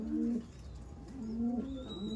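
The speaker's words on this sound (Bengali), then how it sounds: "এটা মাদি পায়রা" Andhra-breed breeding pigeons, a female among them, give soft, low rolling coos in a steady murmur with no voices.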